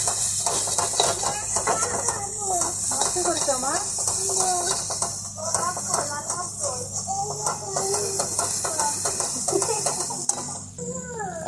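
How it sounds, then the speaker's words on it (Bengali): Spices with salt and turmeric fry in a pan for a fish broth. A soft sizzle and repeated scraping of a spoon against the pan continue while someone talks over it nearby. "এবার আমরা মশলাগুলো আবার ভালোভাবে কষিয়ে নিব"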